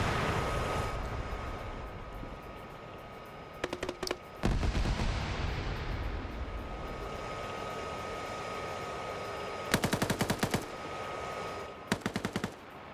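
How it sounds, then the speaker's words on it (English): AK rifle fire in a tank wargame, heard as loud rapid automatic bursts in several separate volleys over a constant roaring engine and rumble background, with no talking. "you hear that AK fire"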